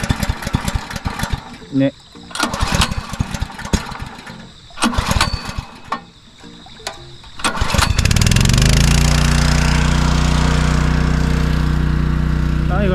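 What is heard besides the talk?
engine-driven water pump starting and running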